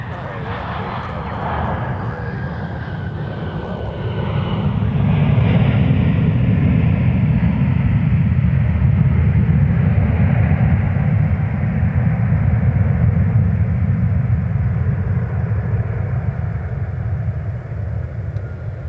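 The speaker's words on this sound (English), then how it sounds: "And now arriving from Charlotte Douglas International, American 2802 with a 737-800." An American Airlines Boeing 737-800 arriving at MSP airport makes a loud, broad jet roar that builds and then holds steadily, with a faint whine above it and voices talking over it.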